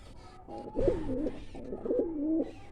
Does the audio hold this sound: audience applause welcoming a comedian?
no